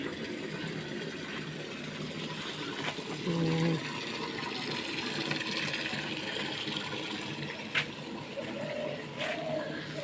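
Water poured onto tulsi plants in a home garden during hot weather, a steady broad splashing and trickling that runs the whole time, with a brief tonal squeak near the middle and a few soft knocks.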